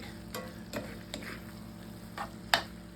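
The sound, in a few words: ground beef cooking and sizzling in a pan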